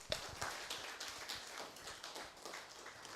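Audience at a political party constituency branch meeting in Bridgetown clapping together in a steady, fairly distant round of applause with dense overlapping claps.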